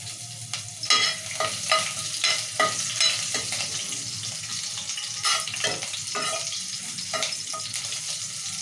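Dried chillies frying with cumin and mustard tempering seeds in hot oil for an onion masala dal, a loud close sizzle broken by repeated scraping stirs.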